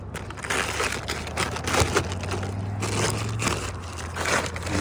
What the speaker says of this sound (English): I am peeling back the tarp to show the damage here.